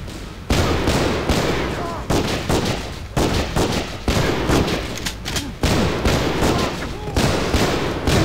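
Rapid bursts of gunfire from a prison-fighting video game, loud and sustained in repeated volleys with brief gaps between them.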